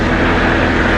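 A small airplane droning steadily as it flies low over a reservoir, its engine and propeller giving a loud, constant roar from inside the cabin.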